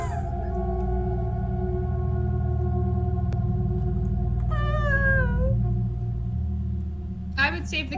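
A cat in the video game Inscryption lets out a single wavering meow midway through, over a steady low musical drone, and a sharper cry follows near the end.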